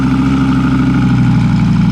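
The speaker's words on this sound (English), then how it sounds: "I don't think that's got standard exhaust on it." A car with an aftermarket exhaust idles loudly nearby at a cars and coffee meet, its exhaust giving a deep, steady, throaty rumble that holds constant throughout.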